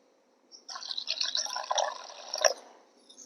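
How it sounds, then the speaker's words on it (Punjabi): Water pours into a bowl of besan (gram flour) batter for a village-style Punjabi bhurji, a close, steady trickling splash lasting about two seconds with no talk. "ਬੇਸਨ ਆਪਾਂ ਘੋਲ ਲਿਆ ਇਹ ਚ ਪਾਣੀ ਹੋਰ ਪਾਵਾਂਗੇ ਜਿੰਨਾ ਪੈਂਦਾ ਹੈ"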